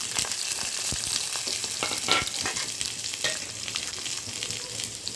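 Big onions fry in hot oil, a bright crackling sizzle with scattered pops and the occasional scrape of a stirring spoon, close and continuous.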